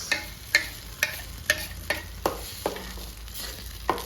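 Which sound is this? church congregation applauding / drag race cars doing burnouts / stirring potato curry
stirring potato curry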